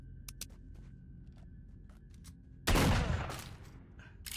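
Shotgun fire in S.T.A.L.K.E.R.: Shadow of Chornobyl: after quiet clicks and faint ticking, one sudden loud blast erupts near the end and decays over about a second.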